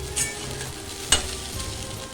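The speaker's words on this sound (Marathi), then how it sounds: "हे बघा, आपले पोहे छान परतून झालेले आहेत" Poha stir-fries gently in a pan on a home stove, a faint steady sizzle with two sharp scraping clicks of the spatula, no talking.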